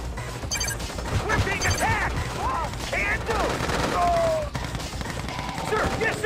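Rapid gunfire from units in the real-time strategy game Red Alert 2 rattles in dense overlapping bursts, mixed with whistling game effects, while unit voice lines speak over the battle.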